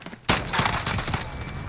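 Rapid burst of FAL OSW rifle fire in Call of Duty Modern Warfare, loud close shots in quick succession that keep ringing out, with no talking.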